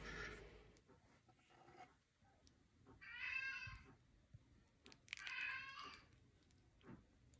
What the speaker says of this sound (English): The meowing is Molly the cat